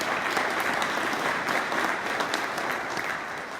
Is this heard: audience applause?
yes